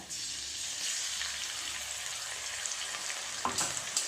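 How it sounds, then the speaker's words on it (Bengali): Soft, steady sizzle of ginger and green chilli paste frying in a wok, with a few louder spatters and scraping near the end; no talking. "ভেজে নেব আদা কাঁচা লঙ্কা বাটাটা।"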